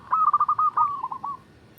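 A zebra dove (perkutut) cooing nearby, a clear rhythmic series of quick pulsed notes running into a rolling, slightly falling trill that fades after about a second and a half.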